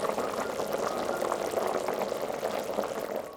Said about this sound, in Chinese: 再倒入热水没过牛肉， 盖上锅盖，大火煮开